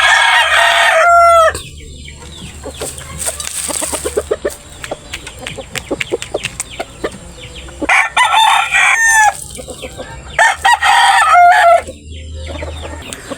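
A rooster crows loudly in a backyard flock of native chickens, with hens clucking through the gaps and a second crow following near the end, all close and clear with no talk.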